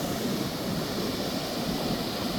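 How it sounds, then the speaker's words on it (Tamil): Heavy sea surf pounding a beach shore, a dense continuous roar of crashing water with wind noise, steady and loud with no talk. "ஆனால் பாருங்கள் என்ன அடி அடிக்குது கடல்."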